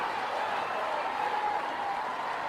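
A Bangladesh cricket crowd roars and applauds a wicket during a Test against New Zealand, a dense, steady wall of cheering and clapping heard from a broadcast distance.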